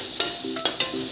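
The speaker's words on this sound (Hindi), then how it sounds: "1 से 2 सेकंड के लिए धीमी आंच पे भूनेंगे" A coarse spice paste fries over a low flame in mustard oil tempered with panch phoron and bay leaves for aloo dum, a soft sizzle broken by three sharp spoon scrapes against the pan.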